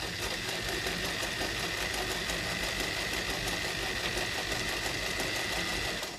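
A sewing machine stitching closed the opening of a fabric canning mat, running in a steady, loud, unbroken whir close by throughout.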